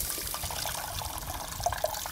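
Juices from a whole chicken grilled inside a watermelon pour into a pot in a continuous trickling splash, with a couple of distinct drips near the end.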